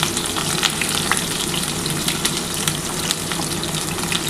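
Onion fries in oil with a loud, dense, continuous sizzle and crackle close by, with no talking. It is the base for a mutton keema bora curry with potatoes.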